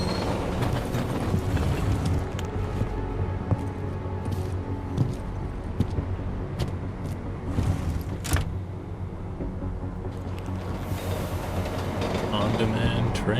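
A video game train rumbles steadily with rattling clicks and clacks, under a continuous mechanical roar and occasional sharp ticks, while people talk over it.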